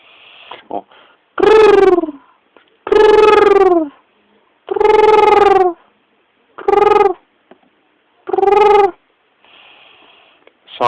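A human voice imitates a guinea fowl call with five loud, strongly pitched cries in an uneven rhythm, separated by short pauses and faint breaths.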